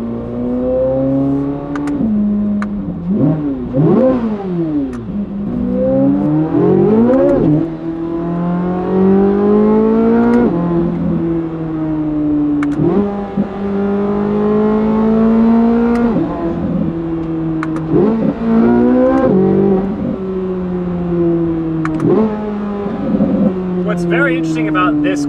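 A C8 Corvette Z06 with a titanium exhaust and stock downpipes revs hard through repeated gear pulls, its flat-plane V8 wail rising and falling in pitch, loud and close from inside the cabin.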